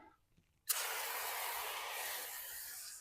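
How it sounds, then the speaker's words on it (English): A sudden burst of spray hisses on after a brief quiet moment and continues steadily, close and fairly loud, as plant-based cleaner foams onto a car's fender well. "You spray the fender well."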